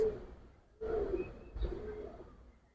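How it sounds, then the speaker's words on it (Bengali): Pigeons, Giribaz and silver Bagha breeds, cooing close by in two soft, throaty bursts, with a faint chirp above and a low hum of background noise. "কবুতর দেখেন ভাই"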